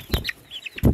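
A young turkey poult gives short, high peeps, two quick cheeping bursts close by against a quiet background.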